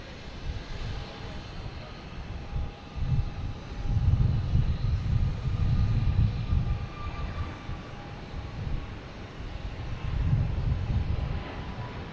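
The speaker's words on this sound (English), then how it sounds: "Get American Airlines at A321neo heading to Philadelphia." An American Airlines Airbus A321neo at Boston Logan Airport, its engines a broad low roar that swells and eases over several seconds and sounds fairly distant, with a steady rumble behind it and no talk.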